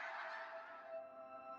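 Geese honk in a dense chorus from a flock gathered on summer nesting grounds used by polar bears, with overlapping calls, moderately loud and continuous with no talking.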